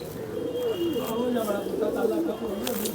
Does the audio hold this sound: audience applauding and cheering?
no